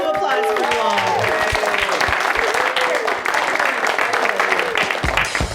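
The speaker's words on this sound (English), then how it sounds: "A round of applause for you all." A live podcast audience applauds at the close of a recording, dense steady clapping running throughout, with voices talking and cheering over it.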